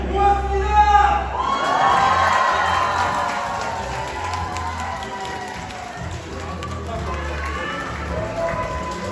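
Crowd at a hospital concert applauding and cheering, with whoops and shouts swelling early and then settling into sustained clapping while a host speaks over it through most of the span.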